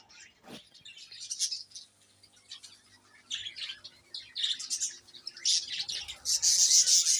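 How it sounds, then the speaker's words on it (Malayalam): Many small birds chirping and twittering close by, bursts of high tweets coming and going, growing busier and louder toward the end. "ഒരുപാട് പക്ഷികളുണ്ട് ഇതിനുള്ളിൽ"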